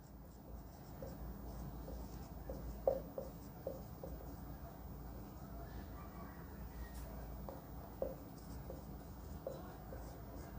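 Chalk or marker scratching and tapping on a board in a trigonometry classroom, with quiet, irregular strokes and occasional sharper taps over a low, steady room hum.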